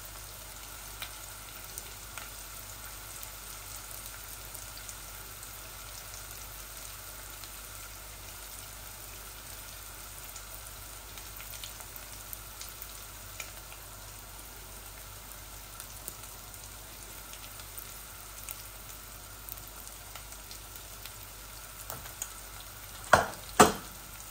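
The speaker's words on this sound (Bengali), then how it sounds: "একটা বুকের মাংস আমি রান্না করতেছি" Chicken breast pieces fry with curry powder and spices in a pan, giving a continuous soft sizzle with occasional stirring scrapes and two louder clanks at the end, no talking.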